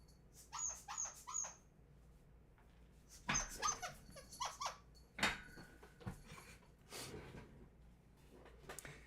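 A dog being entertained with a thrown ball gives a string of high, thin squeaks and whimpers, then a few soft barks. The sounds come in irregular bursts, fairly close but quiet.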